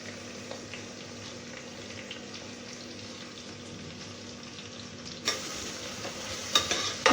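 Chopped capsicum frying in a pan over a low flame with onions, a steady close sizzle with stirring scrapes, growing brighter and louder near the end with a few sharp clinks.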